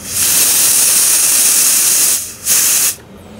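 Pressurized CO2 hisses loudly and steadily out of a beer fermenter, breaks off briefly, bursts again, then cuts off.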